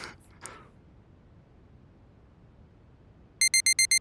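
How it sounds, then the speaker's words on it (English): A rumbling alarm clock in a visual novel video game: a brief faint sound, then near silence, then a loud, rapid, buzzing beep pattern repeating in quick bursts at the end. "The next day, I woke up to the sound of a rumbling alarm."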